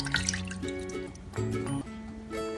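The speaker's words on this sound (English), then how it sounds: "we will add half cup of water to it" Half a cup of water is poured into a cooking pot of Jain-style mukand vadi gravy, giving a soft brief splashing trickle with faint clinks, fairly quiet.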